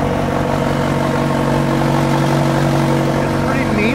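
A CTR engine idles steadily close by, with a dense, throbbing low rumble that stays constant throughout.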